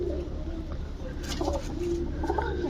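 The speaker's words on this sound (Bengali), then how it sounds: "এখানে টোটাল দশ পিস কবুতর আছে" Soft cooing of ten pigeons, low and repeated, murmuring through a steady background hum at close range.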